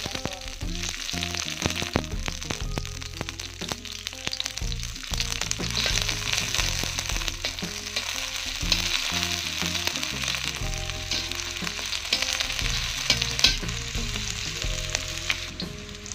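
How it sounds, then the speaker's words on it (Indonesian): Shallots fry in hot oil with a loud, continuous crackling sizzle and occasional sharp pops and stirring scrapes, close up, while a Medan-style green eggplant dish is cooked. "Kita panaskan minyaknya. Langsung saja kita masukkan bawang merah,"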